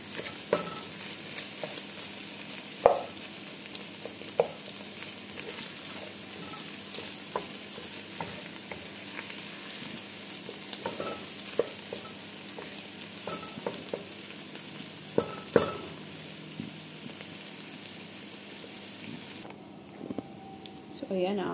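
Shrimp frying in a pan with garlic and ginger gives a steady close sizzle, broken by occasional clicks and scrapes of stirring.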